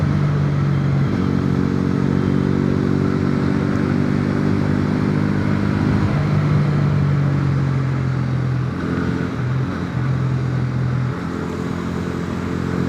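A Bajaj Pulsar N160 160cc motorcycle engine drones steadily up close, its pitch rising and falling as the rider shifts and accelerates, with wind noise throughout.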